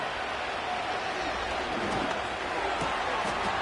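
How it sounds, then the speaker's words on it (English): Football stadium crowd roaring before a third-and-10 play between the Bears and Falcons, a dense, steady wash of noise that holds loud throughout, with a commentator's voice mixed into the din. "What about this crowd getting even louder before 3rd and 10?"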